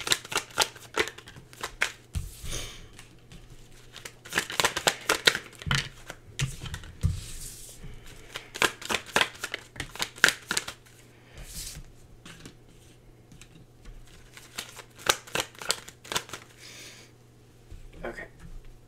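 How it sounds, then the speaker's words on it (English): Tarot cards are shuffled in bursts of quick, papery riffling and slapping, close to the listener, with a voice talking at times between and over the shuffles. "I'm going to pull these cards too"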